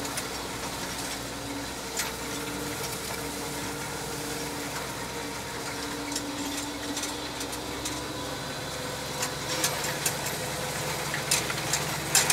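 A tractor engine hums steadily while tedding grass near a hedge, a moderate continuous drone with faint rattling and ticking mechanical clatter from the tedder, heard from the cab without talk.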